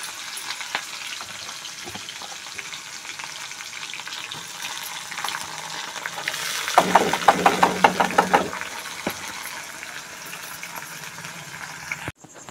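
Potatoes hit hot oil in a heated wok with a sudden loud burst of sizzling and spattering that swells for a couple of seconds and then settles back into a quieter, steady fry, with no talking.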